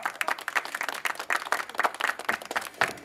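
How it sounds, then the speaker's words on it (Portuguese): Party guests at a family celebration in Itaquera, São Paulo clap loudly and steadily, a dense crowd of hands applauding nearby with no talking. "Uma salva de palmas,"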